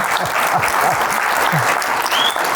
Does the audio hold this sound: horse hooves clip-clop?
no